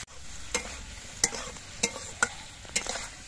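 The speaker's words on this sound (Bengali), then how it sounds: "এবার তেলের মধ্যে নেড়ে চেড়ে অল্প একটু সময় ভেজে নেব" Ginger, green chilli, onion, capsicum and tomato fry in hot oil in a wok, with a constant sizzle and five or six distinct scraping strokes of a spoon as they are stirred.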